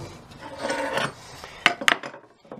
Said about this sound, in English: Now I can do a little bit more sanding here